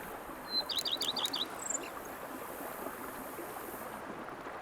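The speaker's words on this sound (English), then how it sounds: "Bees buzzing, birds chirping." Birds chirp in a quiet outdoor scene in The Witcher 3: Blood and Wine, with a quick run of bright tweets early on and a few scattered calls, set against a steady soft ambient hiss.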